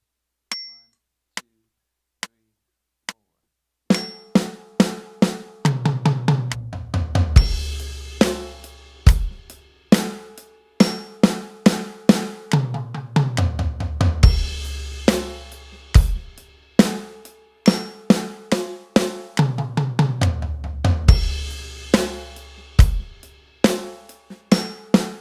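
A drum kit lays down a basic groove with kick on 1 and 3 and snare on 2 and 4, starting with a few sparse hits before settling into a loud, steady repeating pattern with cymbals.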